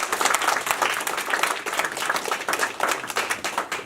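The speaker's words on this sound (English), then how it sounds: "Can we give her a round of applause?" An audience at a pitch competition applauds a speaker with steady, dense clapping that stays loud throughout without fading.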